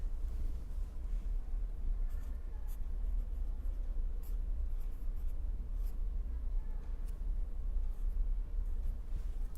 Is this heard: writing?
yes